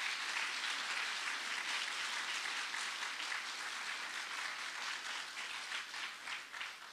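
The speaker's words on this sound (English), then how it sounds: "a round of applause" Steady audience applause fills a school dedication ceremony at an elementary school, a dense wash of many hands clapping at even loudness for several seconds, tapering slightly toward the end.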